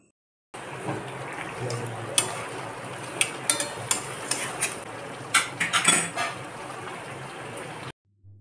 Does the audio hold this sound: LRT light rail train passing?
no